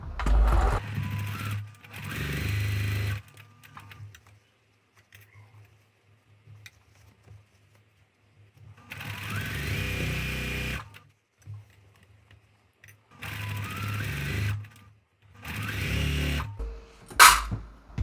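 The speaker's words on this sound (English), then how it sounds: "So we'll just stitch down that row." A sewing machine stitches down a row of a beginner sampler quilt block in several separate bursts with quiet gaps between, close by and without talk.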